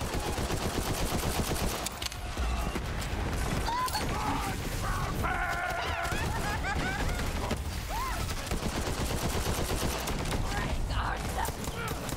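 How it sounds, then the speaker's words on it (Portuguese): Continuous enemy gunfire in co-op Borderlands 3 play, dense bursts and mechanical clatter running steadily throughout at close range, with voices talking over it. "Tem um cara ali atirando,"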